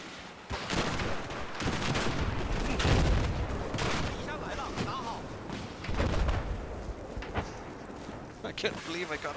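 Gunfire and explosive booms in a chaotic multiplayer shooter game, dense and continuous with heavier blasts around the middle, while players talk over the action.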